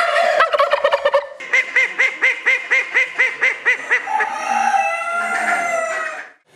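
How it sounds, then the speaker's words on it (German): A rooster crows loudly and close in a village setting, a long run of rhythmic, repeated calls with a drawn-out final note, heard alone without talk. "Und dann fängt der Hahn an zu krähen, früh um 5."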